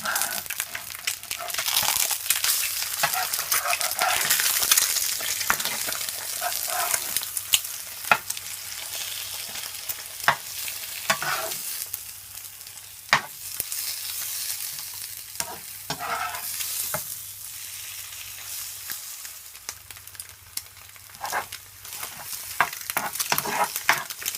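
Shrimp fried rice being stirred and turned in a hot pan, a continuous close sizzle with rustling scrapes and occasional sharp clicks of a spatula against the pan, no talking.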